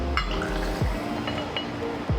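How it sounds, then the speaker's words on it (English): Ten-year corn whiskey poured into a stirring glass, a close steady liquid trickle with light glassy clinks, heard alone without talk. "pour 2 ounces of 10-year corn whiskey into our stirring glass"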